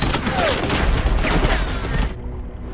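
A tank cannon fires amid a war-film battle, with heavy booms and crackling gunfire that cut off abruptly near the end.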